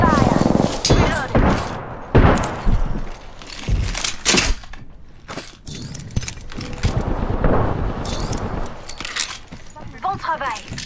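Rapid gunfire crackles in a shooter video game, in sharp bursts and single shots mixed with clanking effects, loud and close, with a voice talking over parts of it.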